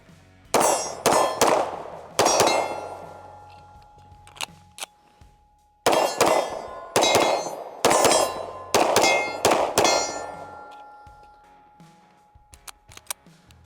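An OA Defense 2311 pistol fires string after string of shots, each followed by the clang of steel targets ringing and then decaying. The shots come in quick bursts with pauses between them, loud and nearby.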